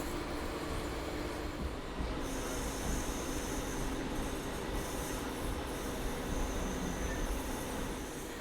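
The 22413 Goa Rajdhani Express runs on after leaving a station in India, giving a steady loud rumble and wheel clatter on the rails, heard from inside the coach, with a faint squeal at times.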